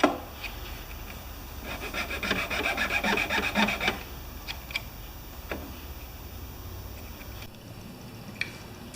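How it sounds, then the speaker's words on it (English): A hand file roughing up the edge of a plastic-welded Honda HRR216 lawnmower part, giving a steady rasping burst of strokes in the middle, with faint scrapes and ticks around it and no talk. "You take a file and you rough the edge up to build it further out."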